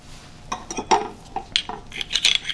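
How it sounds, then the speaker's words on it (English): A garlic clove being crushed in a metal garlic crusher while cooking teriyaki beef and tofu, a run of close clicks, clanks and metallic squeezes in an uneven rhythm, no talking. "I have 1 clove of garlic that I'm just going to crush."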